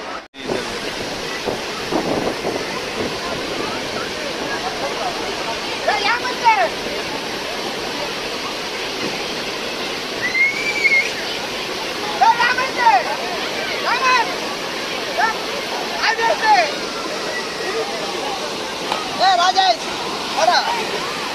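Water rushes over a dam in Tamil Nadu as a steady broadband roar, with wind buffeting the microphone and occasional voices nearby.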